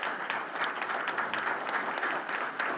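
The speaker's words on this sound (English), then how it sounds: "That alone needs a clap right there." An audience at a county Founders' Day celebration claps steadily and fairly loud throughout, a dense even patter of many hands with no break.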